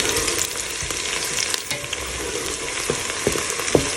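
Garlic, ginger, tomatoes and spices fry in a pot for chicken cauliflower, sizzling steadily up close with scattered clicks and scrapes from stirring.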